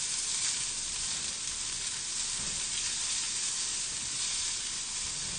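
Garlic and a quarter of an onion sauté in olive oil, giving a steady, close, continuous sizzle with a bright hiss and no pauses or talk.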